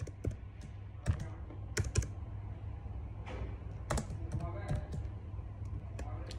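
Keys clatter on a computer keyboard during data entry in an Excel spreadsheet, quick irregular taps that are close and fairly soft over a low steady hum.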